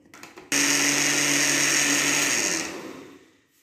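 A kitchen blender grinds bananas, walnuts and milk for a chocolate milkshake in one loud, steady high-pitched whir of about two seconds that winds down, preceded by faint handling noise.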